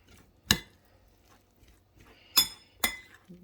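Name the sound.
mixing food in a dish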